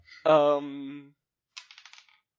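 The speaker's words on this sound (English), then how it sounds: "That dice rolled a long time." A short sustained tone, like a sung or whistled note, gives way after a pause to dice rattling and clicking across a tabletop in a brief, fading series of small impacts.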